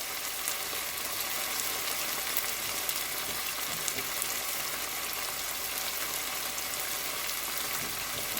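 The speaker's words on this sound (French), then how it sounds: "Là, je baisse le feu parce que sinon la purée de tomates, elle saute. Et je laisse de nouveau mijoter ceci." Tomato puree simmers over lowered heat in a pan, giving a steady, dense crackling and soft bubbling hiss that holds evenly throughout, close and moderately quiet with no talk.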